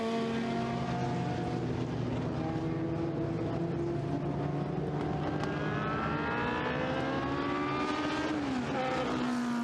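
Racing cars pass on a circuit during a safety car period, their engines droning in steady overlapping tones that rise and shift in pitch as they go by, loud and continuous with no talk.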